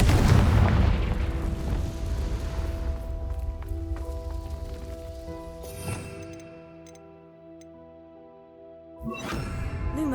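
Booming blasts from the Confringo fire spell in Hogwarts Legacy: a heavy explosion at the start, another burst mid-way, and a final blast near the end, with ringing tonal tails between them.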